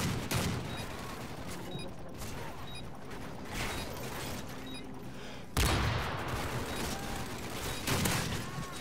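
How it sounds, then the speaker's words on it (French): Sustained heavy machine-gun fire and bursts of gunfire in the Modern Warfare 3 video game, dense and loud throughout, with a sharper burst near the end. "Ah, la grosse mitraille, elle me tue."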